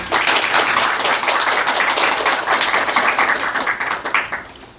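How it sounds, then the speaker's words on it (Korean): Loud, dense applause from an audience welcoming a speaker at a Korean leadership lecture, steady clapping filling the whole stretch before easing slightly at the end, with no voices over it. "김미성 원장님을 뜨거운 박수로 모시겠습니다"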